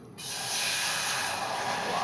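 Steam hisses loudly and steadily from a hot pot of boiling water heated without fire, starting abruptly after a brief quiet moment and holding a broad, even rush.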